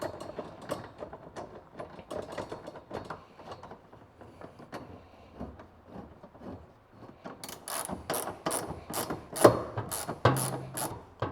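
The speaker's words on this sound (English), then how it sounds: "I'm gonna go ahead and slip my ratchet on here and spin this on." A hand ratchet tightens bolts on a TCS Motorsports X brace for a Toyota MR2, giving close, rapid clicking that comes in short bursts and grows louder and quicker toward the end.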